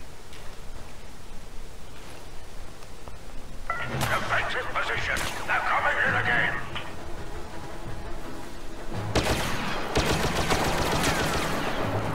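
Pistol blaster fire in Star Wars Battlefront on the Sullust map, two bursts of sharp rapid shots at mid-distance over steady game ambience, the first around four seconds in and the second near nine seconds.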